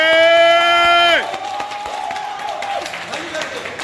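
Audience applause at a youth democrats' gathering at the Maison de la Presse in Bamako, rising after a loud sustained tone cuts off, a steady moderate wash of clapping with some cheering, with a voice speaking over it.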